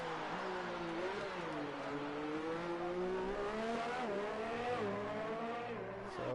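A Formula 1 car laps a track in the video game F1 2019, its engine note rising and falling with gear changes and cornering, steady and fairly faint with no talk.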